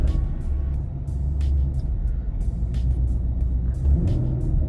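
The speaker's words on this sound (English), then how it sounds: "You can sit here and rev the car up" Car engine with a freshly greased Kennebell 168mm monoblade throttle body, idling with a low steady rumble and light revs, close and continuous, with faint clicks on top.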